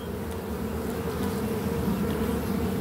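A dense, steady drone of honey bees fills the air during an inspection of the Holly hive and its split, close and continuous with no voices over the buzzing.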